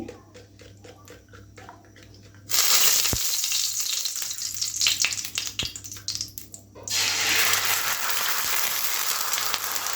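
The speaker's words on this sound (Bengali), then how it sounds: "আমি প্রথমে ডিম ভাজার জন্য তেল দিয়ে দিচ্ছি।" Beaten egg hits hot oil in a pan with a loud, dense sizzle that bursts in suddenly, eases into softer crackling, then surges back to a strong steady hiss; no one talks.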